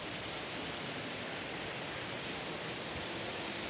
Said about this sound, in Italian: E la fontana si para davanti a noi in tutta la sua bellezza.